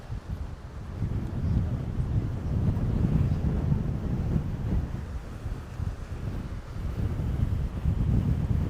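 Strong wind on Mykonos buffets the microphone in a continuous low rumble, gusting steadily throughout with no voices.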